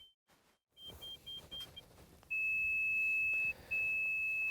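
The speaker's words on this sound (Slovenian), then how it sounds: "Bližje, ko sem, hitreje začne piskati," An avalanche transceiver searches for a buried victim in winter mountain snow, emitting short high beeps that come faster and then merge into long sustained tones as it closes in, fairly faint and close.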